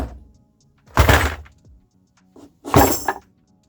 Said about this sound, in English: dropping a toolbox and other similar items